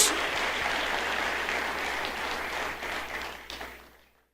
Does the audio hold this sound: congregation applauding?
yes